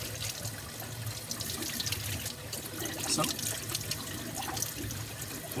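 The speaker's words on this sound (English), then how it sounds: "once you're done, you can turn the water off." Tap water runs steadily into a sink while a clay coil heart is rinsed under it, a constant close splashing hiss that continues throughout, with a voice speaking briefly over it.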